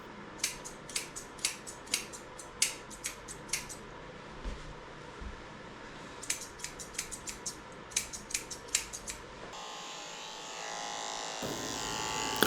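Clippers or scissors snip repeatedly at an Australian Shepherd's tail fur, a quick rhythmic string of sharp close cuts, then a steady electric clipper buzz takes over near the end.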